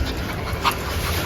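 A dog panting in short, steady breaths close by, continuing for about a second over a low background rumble.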